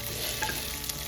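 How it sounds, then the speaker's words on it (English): Hot tadka tempering oil hits palak paneer with a soft, steady sizzle and crackle, close and fairly quiet, with no talking. "Add tadka to the palak paneer."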